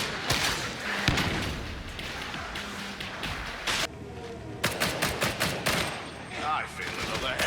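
Rapid gunfire bursts from weapons in Warhammer 40,000: Darktide, loud broadband volleys and sharp shots crackling in irregular clusters over a busy game mix, with voices talking throughout.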